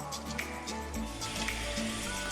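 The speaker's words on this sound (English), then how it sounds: "Now we need to add our wine, just a cupful of a nice dry white wine" Dry white wine poured into a pan of hot oiled rice for a vegetarian mushroom risotto, giving a soft, steady sizzle close by, fairly quiet, with a faint hum beneath.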